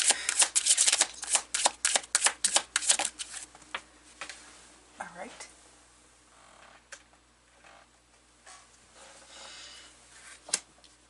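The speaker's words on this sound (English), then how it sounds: "I'm going to pull the cards and I'll talk after." Tarot cards are pulled and shuffled up close, a quick series of crisp riffling flicks for the first few seconds, then softer occasional card slides and taps in a quiet room.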